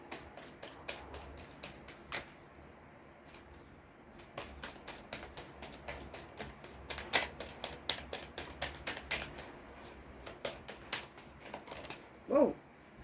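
Oracle cards being shuffled and drawn, a rapid run of crisp flicking riffles with short pauses, close and fairly quiet, ending with one louder slap of a card.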